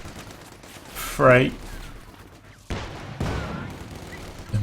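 Gunfire bursts crackle in a Company of Heroes 2 1v1 match. A couple of sharp broadband volleys land midway, with a commentator's voice and battlefield noise around them.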